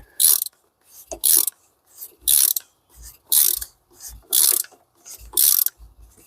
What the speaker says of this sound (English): take your 36mm shallow socket, and it looks just like this. And then the rest of the way, you're going to tighten it down with this